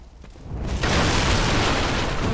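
A cannon fires in the video game Bloodborne, a loud booming blast that swells in under a second into a sustained, roaring rumble, with no voices over it.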